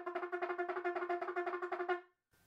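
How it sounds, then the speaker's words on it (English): Rapid staccato notes are tongued on a wind instrument while the player holds their breath, making a quick run of about twenty pinched, squeezed, clucking pulses that stops abruptly. "So it's sort of squeezed and a bit sort of like a chicken."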